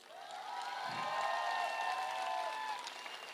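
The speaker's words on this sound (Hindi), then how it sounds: "ताली बजाओ तो ढंग से" An audience at a motivational business talk applauds in a steady wash of clapping that swells and holds, with a whistle-like tonal sound running over the top and a voice briefly heard near the start.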